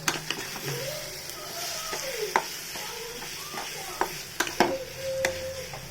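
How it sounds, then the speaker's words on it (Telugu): Prawns with chopped green chillies frying in oil in a pan, a steady close sizzle broken by sharp spatula scrapes and clinks, with a few sharp pops. "ఈ రొయ్యల్ని అలాగే నూనెలో కొంతసేపు వేగనేయాలి"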